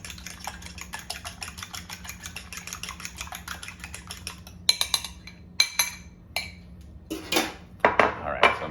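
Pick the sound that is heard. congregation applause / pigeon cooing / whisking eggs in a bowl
whisking eggs in a bowl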